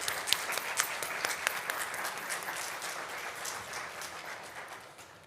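Graduation-ceremony audience at a Native, Indigenous and Tribal commencement gives a speaker another round of applause, sharp individual claps standing out at first before the clapping thins and fades.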